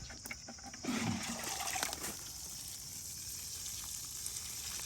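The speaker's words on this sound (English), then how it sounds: "And that is how I water my hazelnut" Water poured from a bucket onto a hazelnut tree outdoors, a short splashing gush near the one-second mark that settles into a steady soft trickle and hiss.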